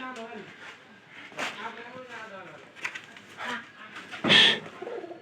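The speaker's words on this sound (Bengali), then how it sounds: "ওই যে পায়রা আছে, দুইটাই আছে।" A newly paired couple of pigeons coo in their loft, a series of soft, rolling low calls repeated several times close by, with someone talking over them.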